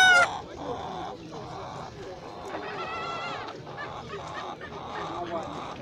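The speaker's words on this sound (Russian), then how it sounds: "Это вот птица с горячего ключа приехала." Poultry in cages at a market fair in Kropotkin, with geese honking and chickens clucking close by in repeated bursts over a steady crowd murmur, and voices talking throughout.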